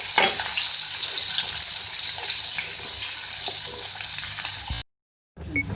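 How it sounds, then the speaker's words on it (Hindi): A small onion sizzles steadily in hot oil in a pan, a loud continuous frying hiss that cuts out abruptly near the end and then resumes briefly. "सबसे पहले मैंने यहाँ पे ऑयल लिया है और उसमें मैं ऐड करूँगी एक स्मॉल साइज़ की प्याज। इसको मैं फ्राई करूँगी।"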